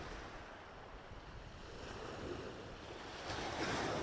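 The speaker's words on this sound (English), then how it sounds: "It's hard to tell with the waves coming in too" Ocean waves coming in on the shore during UK sea fishing for bass, a soft continuous surf wash with wind, swelling slightly louder toward the end.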